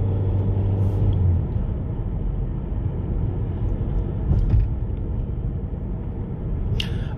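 Toyota C-HR hybrid accelerating hard on a town drive, heard from inside the cabin as a steady, dense low rumble of engine and road noise that holds loud throughout, with no talking.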